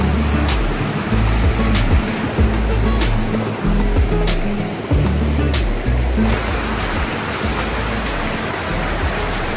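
River water rushing steadily over many small waterfalls at a tropical falls park, a loud, continuous broadband roar with no voices.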